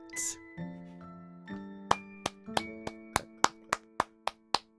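Regular sharp claps, about three per second, ring out over sustained chiming musical tones in the visual novel Summer Pockets Reflection Blue, with a brief voice at the start.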